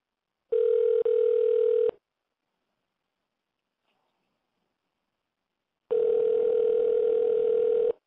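A telephone dial tone sounds while calling in a guest for a talk show: a steady hum cut by a brief gap, then silence, then a second long tone, loud and alone.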